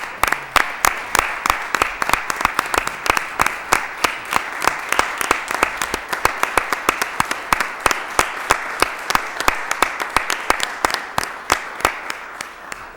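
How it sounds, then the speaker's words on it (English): An audience at a Lowell City Council meeting gives a long round of applause, with many hands clapping steadily and some sharp individual claps standing out near the microphone. The applause stays loud and even throughout, with no speech. "let this elected body and this manager and his staff give you a round of applause"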